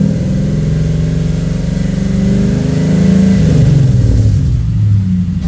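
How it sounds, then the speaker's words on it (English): A Terminator-swapped Mercury Marauder with a supercharged SVT V8 runs on a dyno, a loud, close engine roar that climbs steadily in pitch as the revs rise, then eases slightly near the end, with no talk. "Motor sounds"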